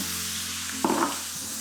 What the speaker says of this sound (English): So add your passata as well.